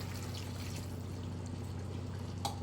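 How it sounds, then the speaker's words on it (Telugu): Water is poured from a glass into a pan of drumstick curry in a home kitchen, giving a faint, steady liquid wash with no talk. "3 వంతుల వరకు సరిపడే వాటర్ గ్లాస్లో తీసుకొని వచ్చి దీంట్లో వేద్దాం."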